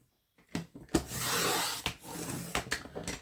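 Cardstock being cut for papercraft journal tags, heard as a short scraping, rubbing slice near the mic, bracketed by a few sharp taps and handling knocks.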